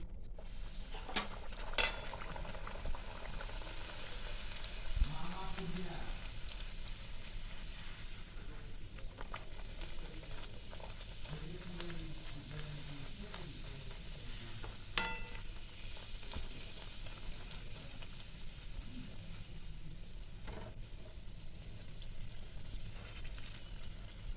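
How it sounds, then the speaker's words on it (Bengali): Dal puri, lentil-stuffed flatbreads, sizzle steadily in hot oil, one after another. The frying hiss is continuous and close, with occasional clinks of a utensil against the pan. "এবার ডালপুরিগুলো পরপর তেলে ভেজে নেব।"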